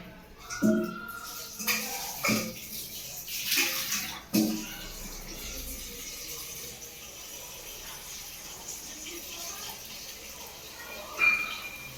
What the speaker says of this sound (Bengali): নতুন আলু তো অনেক বালি থাকে, তাই আমি ধুয়ে নিচ্ছি।